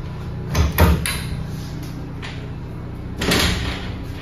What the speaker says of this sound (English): There's your escape door.